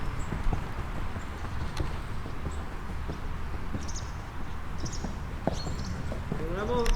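A horse canters during a show-jumping lesson at Poliez-le-Grand, its hoofbeats a quiet, steady rhythm over low outdoor background noise.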